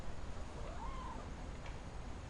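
A cat meows once in What Remains of Edith Finch, a short rising-falling call heard faintly over a steady game ambience, with no talk.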